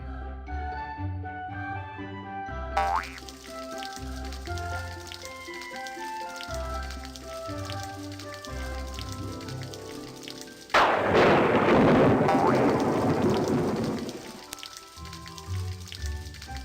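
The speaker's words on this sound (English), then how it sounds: "Tap and hold the clouds to make it rain" Rain pours from tapped clouds in a Little Red Riding Hood children's story game on iPad, a burst of heavy rainfall swelling loudly midway over gentle background music before fading.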